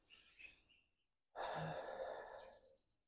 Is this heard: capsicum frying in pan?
no